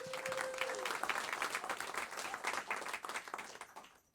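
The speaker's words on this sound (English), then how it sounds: "So please give yourselves a huge round of applause." Comedy show audience in Havertown breaking into a loud, dense round of applause with a few cheers, sustained for several seconds before tapering off abruptly.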